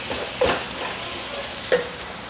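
Bay leaves, cloves and black cardamom fry in a pan of hot oil for Hyderabadi chicken dum biryani, a steady, fairly loud sizzle with two brief stirring scrapes.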